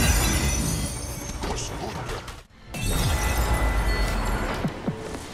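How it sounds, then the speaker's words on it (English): Glass shattering in the video game Warframe, a dense crashing smash with a brief gap, then another breaking burst amid game effects, loud and continuous. "Cephalites, time to smash some glass."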